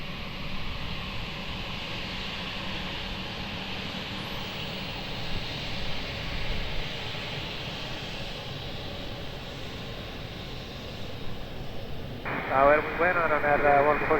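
A jet airliner takes off from runway 20 at Lisbon Airport, its engine roar a broad, steady rumble heard from a distance, building slightly toward the end while radio voices talk over it.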